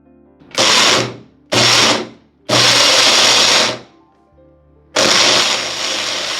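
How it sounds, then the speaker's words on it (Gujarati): Soaked dried red chillies blitzed with water in a kitchen grinder: four loud whirring bursts, three short ones with brief pauses between, then a long final run that settles slightly quieter. "થોડું પાણી એડ કરીને પછી આપણે એને સારી રીતે ગ્રાઇન્ડ કરી લઈએ"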